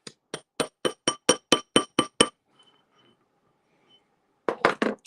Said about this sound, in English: You can also use your hammer to do that